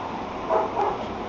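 Puppies give a couple of quick, close yips and barks in one brief, loud burst.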